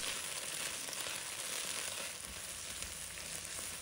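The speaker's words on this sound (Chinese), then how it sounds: "把刚才切好的芹菜放入锅中，给它煸炒一下，把它香味先炒出来" Chopped celery stir-fried in hot oil in a wok, a steady loud sizzle and crackle throughout with faint stirring scrapes, no voices.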